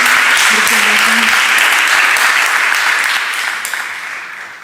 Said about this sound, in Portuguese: Palmas para Joelma